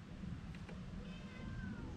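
A hungry small cat meows with a few thin, rising calls over a steady low rumble of wind or traffic outdoors after a group cycling ride, fairly close but not loud.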